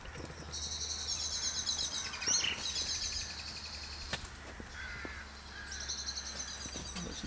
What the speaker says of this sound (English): Lots of birdies around me as usual.